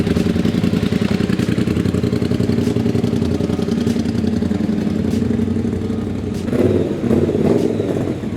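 A 1200 cc matte black motorcycle under way, its engine droning loud and steady with a dense, rumbling pulse, swelling briefly as it accelerates near the end.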